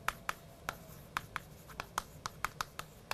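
Chalk or marker strokes on a classroom board come as a quick series of short, crisp taps and scratches in an uneven rhythm, quiet and close, with no talking.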